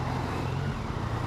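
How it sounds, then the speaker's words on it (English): A Yamaha Niken three-wheeled motorcycle engine revs steadily at the clutch point with its assisted slipper clutch, a close, continuous low drone with no voices. "you can hear the engine revving"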